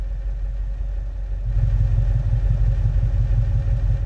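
A car engine with a valved exhaust in the BeamNG driving game idles with a low, steady burble, then grows noticeably louder and rougher partway through as the exhaust note deepens.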